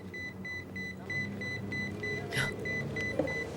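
A pager beeps in a quick, regular series of short electronic chirps, moderately loud over a low hum of traffic and background noise.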